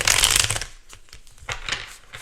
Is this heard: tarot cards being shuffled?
yes